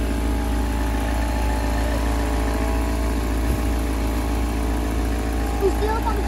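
A pump inflating a car tyre gives a steady, loud mechanical drone with a constant low hum and buzzing overtones throughout, with faint voices briefly underneath.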